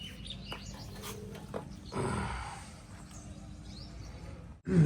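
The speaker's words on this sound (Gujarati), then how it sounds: "પક્ષીઓનો અવાજ આવે છે, મોરનો અવાજ આવે છે" Birds chirping and calling outdoors in a quiet residential villa garden in the morning, with peacocks among them; faint scattered calls over steady low ambient hum, ending in a brief louder bump.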